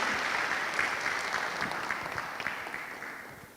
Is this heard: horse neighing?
no